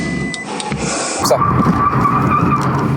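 A Toyota GT86 drifts through a roundabout: the engine revs rise sharply under more throttle and then the tyres squeal steadily. A voice says a single short word.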